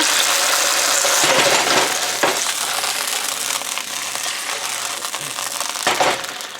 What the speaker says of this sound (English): Now our pan is nice and hot. Let's get our sludgy potatoes in there.